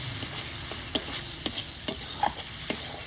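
Spice paste mixed with a little water and a pinch of sugar is stir-fried in a pan, producing a low sizzle with regular sharp scraping strokes of a spatula, roughly twice a second.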